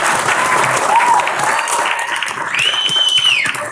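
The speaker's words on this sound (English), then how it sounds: "So maybe we should give him a round of applause." Audience applause at a university brain science launch event, a steady round of clapping throughout with a few faint whistles or cheers rising near the end.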